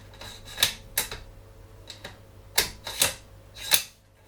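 Rifle bolt on a Savage Model 10 FCP HS Precision, somewhat loose, worked back and forth: a series of sharp, close metallic clicks and clacks, about seven in four seconds at an uneven rhythm, with no one talking.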